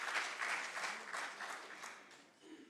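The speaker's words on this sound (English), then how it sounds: "So a big round of applause for them." Reunion audience applauding award winners, a brief burst of many hands clapping that swells in waves and fades toward the end, fairly distant and soft.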